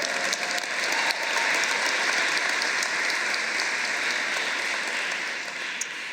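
A ceremony audience applauds steadily at a civic commemoration event, a dense wash of clapping that stays loud and even throughout with no voices on top.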